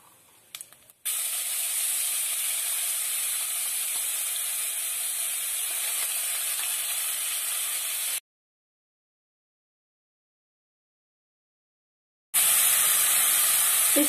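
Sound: onion garlic paste sizzling in oil

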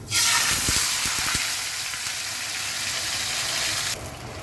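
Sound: black cumin seeds sizzling as they are tempered in hot oil

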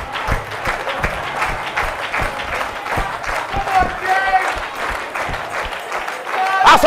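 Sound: church congregation clapping

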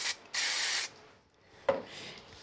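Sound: quick spray onto a die-cut card sentiment

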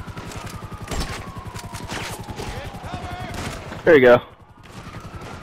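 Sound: gunfire from the video game GTA 5 Online

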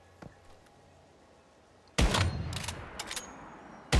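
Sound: gunshot in the video game Once Human

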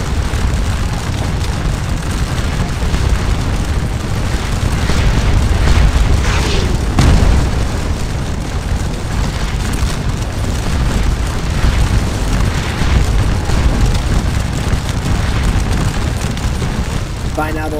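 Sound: heavy fire in Napoleonic battle, video game Scourge of War: Waterloo

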